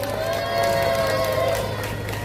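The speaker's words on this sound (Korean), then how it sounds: "저 다시 한번 큰 박수를 부탁드립니다" A crowd at a climate justice march rally in Seomyeon, Busan, claps and cheers for a band, dense continuous applause with scattered shouts, fairly loud and close.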